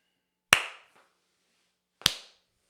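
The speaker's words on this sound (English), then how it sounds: "Yeah, let's clap." Two single, sharp hand claps sound about a second and a half apart, crisp and close in an otherwise silent room.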